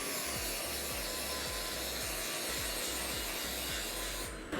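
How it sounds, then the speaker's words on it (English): A pipe's inside edge is bevelled by hand, giving a close, continuous rasping scrape with a regular back-and-forth stroke rhythm through the whole stretch and no talking. "Now I'm just beveling the inside of the pipe just to make sure I'm not getting a false reading."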